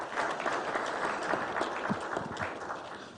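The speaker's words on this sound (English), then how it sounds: "I believe he deserves a round of applause" An audience at a government website launch ceremony applauds, a continuous wash of clapping from a large crowd, fairly distant and even in level across the few seconds.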